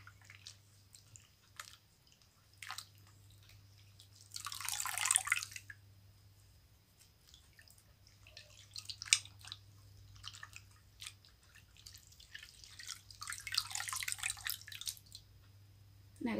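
A homemade sheet mask is washed in water, with soft drips, splashes and squishing in scattered bursts, a few louder sloshes standing out over quiet gaps and a low steady hum, close and fairly faint.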